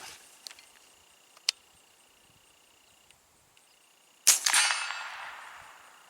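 A subsonic 5.56 round fired from a suppressed 12.5-inch pistol-length AR build: a single sharp crack with a short ringing tail, followed by fainter scattered ticks, heard alone.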